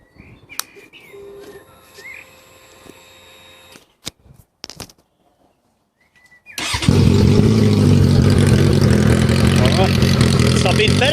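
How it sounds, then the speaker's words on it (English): Suzuki GSX650F motorcycle with the stock exhaust removed, preceded by quiet clicks and handling noises, then the engine fires up and runs loud and steady, close to the microphone. "the stock exhaust is off"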